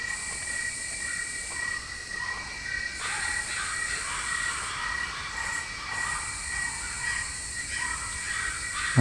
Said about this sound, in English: Oh, the crows?